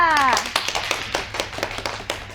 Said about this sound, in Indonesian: Tepuk tangan untuk Nisa.